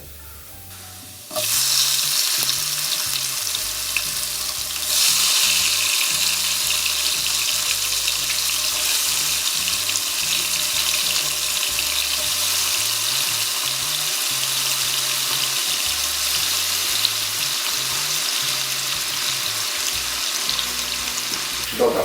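Tomatoes sizzle loudly and steadily in a hot pan for about twenty seconds, a continuous frying hiss with a few faint stirring knocks.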